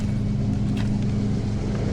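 A car engine idles with a steady low rumble, running on a jump box during a tow situation; the hum is constant and moderately quiet with no voices.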